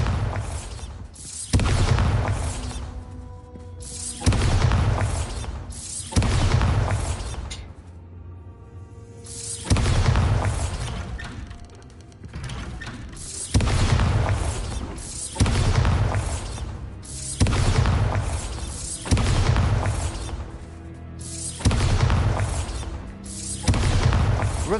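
Bombarda spell blasts go off repeatedly in Hogwarts Legacy, heavy booming explosions arriving every couple of seconds, loud and close, each decaying into rumble.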